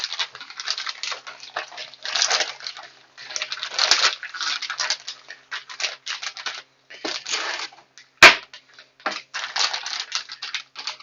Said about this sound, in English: I'm going to basically squeeze out excess air so that everything has got brine on it. And then I'm going to close the Ziploc.